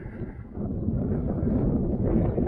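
Heavy wind buffets the microphone on a riverside cycling route near Kraków, a loud low roaring rumble that swells after the first half second and stays strong, with no voices.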